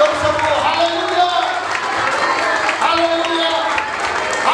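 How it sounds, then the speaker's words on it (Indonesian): A congregation claps loudly and steadily at an Easter church service, a dense, continuous patter that carries over music and voices throughout. "Mari semua kita beri tepuk tangan yang meriah buat Tuhan"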